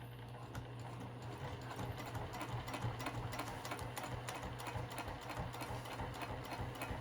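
A sewing machine hums continuously and close, stitching a seam on a zipper pouch with boxed corners, with a steady rapid needle rhythm and no voices.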